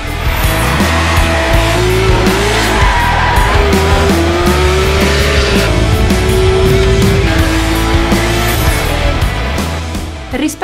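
A 2018 Porsche 911 GT3 RS on a test drive, its engine loud and close, holding a sustained high howl that rises and falls through gear changes, with tire noise and no talk over it.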